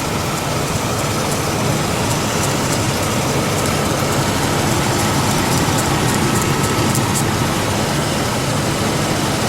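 A 1999 GMC Jimmy engine idles with a loud, steady, even drone and no audible misfire, running unbroken with no talking.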